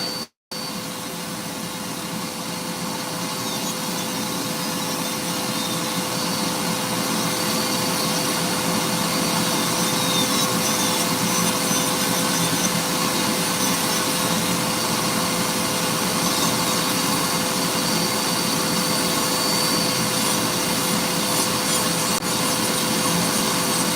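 A rotary carving tool fitted with a diamond burr grinds into wood, giving a continuous, even, fairly loud whirring rasp close by that runs almost the whole time without pause or speech.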